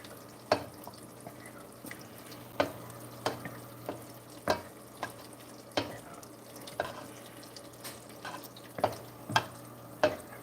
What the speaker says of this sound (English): Stir these grits.